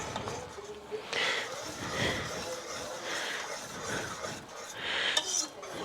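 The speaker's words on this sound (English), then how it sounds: "Just gonna keep stirring." A spoon stirs a cheese mixture in a pan on the stove, scraping and rubbing against the metal in repeated sweeps about once per second, close and fairly soft, with no talk.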